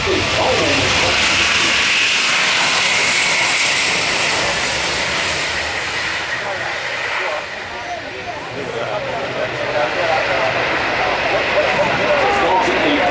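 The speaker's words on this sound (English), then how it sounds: "Starting a very magnificent, super large aircraft." Large aircraft at the Farnborough International Air Show 2016, a loud, continuous broadband engine roar and hiss that holds steady throughout, with commentary from an announcer over it.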